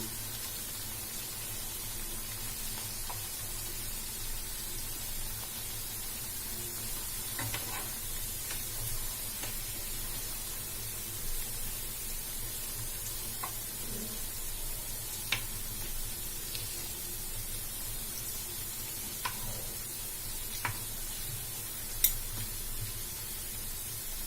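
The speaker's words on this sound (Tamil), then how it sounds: "அதனால நம்ம மீடியமா வச்சுட்டு எல்லா சைடும் ஃப்ரை பண்ணி எடுத்துக்கலாம்." Bread slices frying in a pan over medium heat give a steady, faint sizzle and hiss throughout, with a few soft clicks from turning the pieces and no talking.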